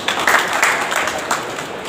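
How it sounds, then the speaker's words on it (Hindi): An audience applauds loudly at a product training event, dense continuous clapping from many hands that fills the whole moment without a break. "एक बार हाथ खड़ा करो, इनके लिए एक बार जोरदार ताली हो जाए"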